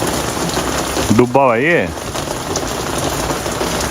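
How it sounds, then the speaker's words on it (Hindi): Steady hiss of rain falling on a balcony on a Pacific island stop, loud and continuous, with someone briefly speaking over it partway through. "बाहर तो बारिश हो रही है"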